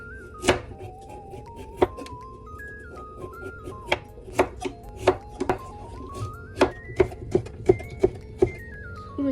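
Vegetables being sliced with a knife on a cutting board, a steady run of crisp, close chops at an uneven pace, alone over a quiet background with a faint tone running through.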